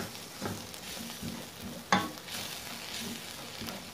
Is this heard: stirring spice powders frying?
yes